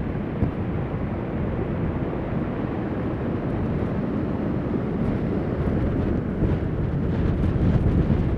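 Strong storm wind blasting the microphone on a high shore at Anapa in a steady, loud roar, with the surge of rough sea underneath and no speech.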